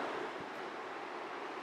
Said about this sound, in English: there's some noise in the background with the waves and everything like that